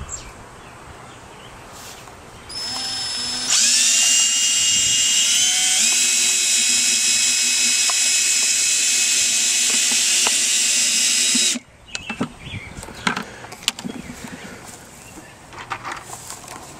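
A power drill drives screws while a rain catchment system is built on the ground: one close, loud, steady whine rises in pitch and runs about eight seconds, then gives way to clattering and handling knocks.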